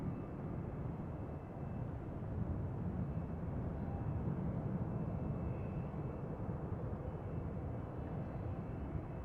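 A business jet turning onto runway 04 at Amsterdam Schiphol Airport produces a distant, steady low jet rumble that holds at a constant, fairly faint level with no talk.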